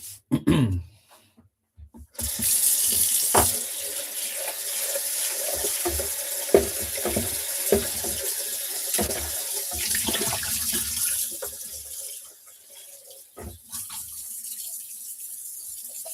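A kitchen tap runs steadily into a sink as dishes are rinsed, the water loud and close for most of the clip, with a few clatters, a throat clear and a quieter stretch near the end.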